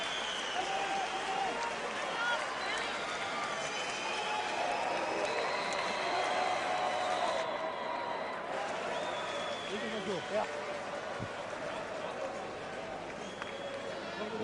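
Large arena crowd in Cologne at a Felix Sturm vs Sebastian Zbik boxing match, a sustained roar of applause and cheering, broad and continuous beneath a commentator's voice.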